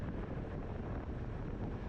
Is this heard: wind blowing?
yes